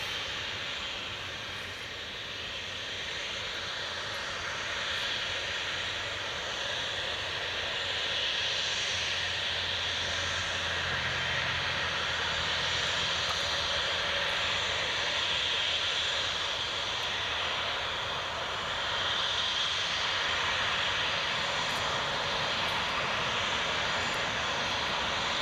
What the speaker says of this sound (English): here comes the Loganair